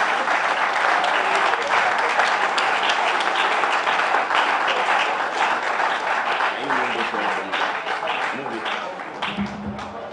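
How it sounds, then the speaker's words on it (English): Audience at a police hospital co-operative credit union event applauds to welcome a speaker, a dense, loud, sustained wash of clapping that tapers slightly near the end, with faint voices underneath. "with a round of applause, let's welcome Mr. Dalton."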